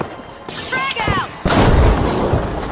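A frag grenade explodes in The Finals with a sudden heavy boom and broad crackling blast that lingers and decays, preceded by a short burst of excited voice over game sounds.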